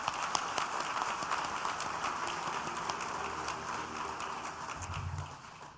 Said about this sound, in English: let's give a rousing round of applause for our 3 athletes in this year's class